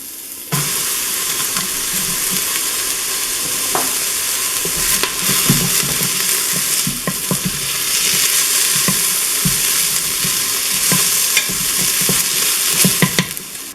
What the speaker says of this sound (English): Set the Instant Pot on sauté and add a tablespoon of oil. Add the chopped onions and chilies and cook for about 2 minutes.